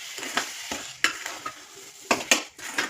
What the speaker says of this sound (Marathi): साखर एक जीव करून घेऊया आणि नंतर झाकण ठेवून व्यवस्थित परतून घेऊया